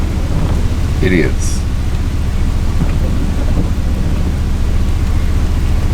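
Steady, loud rain pours on a rainy morning with a low rumble of thunder underneath, and a voice speaks briefly.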